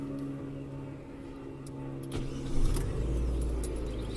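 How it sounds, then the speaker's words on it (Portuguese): A car engine starts during a practical driving test in São Paulo: a low idle hum rises as the engine catches, then settles into a deeper steady rumble, close and alone without talk. "Isso aí, ligou o carro."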